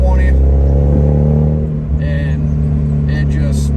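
Inside a Mazda Miata pulling in third gear at low speed, a loud low engine drone holds steady and strong, with small chirps and rattles over it.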